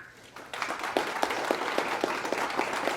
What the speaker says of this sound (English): round of applause for these great soldiers and recruits